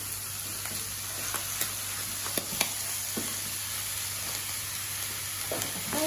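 Mince with a bit of casserole frying in a pan while a spoon stirs it, a continuous soft sizzle broken by sharp scraping clicks, no voices.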